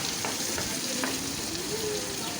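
Chopped onions, four large ones, frying in hot oil in a pan for a Bengali lote fish curry, making a steady, fairly loud sizzle that runs throughout with no talk over it.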